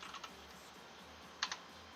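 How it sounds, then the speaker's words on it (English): Quiet computer keyboard typing, a few soft scattered key clicks with a short double tap near the end, close and alone without talk. "The one time I type it right."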